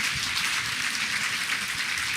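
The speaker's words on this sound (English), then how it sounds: "Can I get a big round of applause for that?" Audience applause in a hall, a steady dense wash of clapping held at an even level throughout, with no voices over it.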